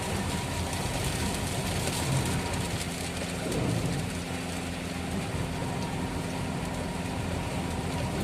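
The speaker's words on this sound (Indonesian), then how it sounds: "di kondisi hujan seperti ini" Steady rain on a car while driving along a Trans-Java toll road from Sidoarjo to Pandaan, a constant broadband wash of droplets and road noise with no talk.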